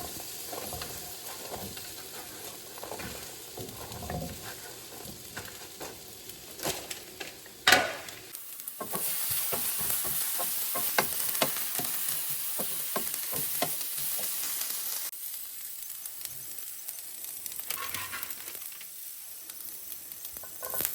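Potatoes fry in avocado oil in a pan, a steady close sizzle with crackles and occasional clinks and scrapes of stirring, rising into a louder, brighter hiss midway before easing slightly.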